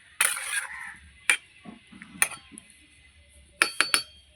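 A lid set onto a cooking pot while jackfruit curry simmers, giving a few sharp metallic clinks and clatters, close and fairly faint, separated by quiet gaps.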